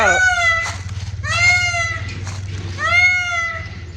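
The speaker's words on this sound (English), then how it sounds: "A peacock is loud." Loud, wailing peacock calls ring out three times, each a rising harmonic cry, over a steady low engine-like hum.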